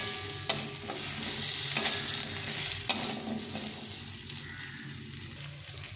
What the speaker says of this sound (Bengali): তেলটা গরম হয়ে গেছে এর মধ্যে এই বড়িগুলো একটু ভেজে নেব